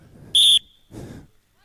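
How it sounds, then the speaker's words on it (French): A referee at a quidditch match blows one short, shrill whistle blast to restart play, followed by a brief burst of talking. "Le jeu reprend à mon coup de sifflet."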